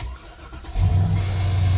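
A Mercedes-Benz GL X166 with a failing Airmatic air suspension compressor, started up: a short crank catches into a low, steady idle rumble, close and loud, with no talking.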